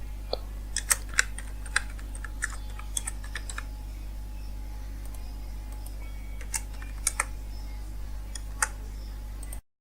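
A verification code is typed on a computer keyboard, with scattered quick key clicks over a steady low electrical hum, close and fairly quiet.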